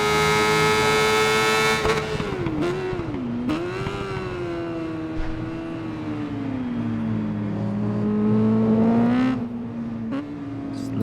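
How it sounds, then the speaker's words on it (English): A 1000cc modified superbike in the Ride 5 racing game revs hard and shifts up through the gears, its engine note climbing, dropping and rising again steadily and loudly, with no talk. "On the accelerator now, clicking up through the gears"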